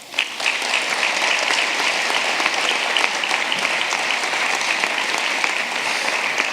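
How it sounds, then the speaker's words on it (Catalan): Steady, loud applause from the crowd at the first Roquetes sports awards ceremony, a dense continuous wash of clapping holding at an even level throughout. "Per a elles sí que demano el primer dels aplaudiments."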